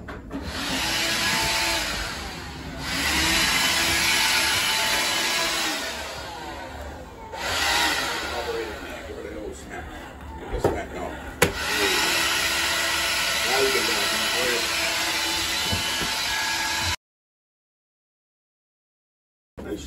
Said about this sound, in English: battery operated vacuum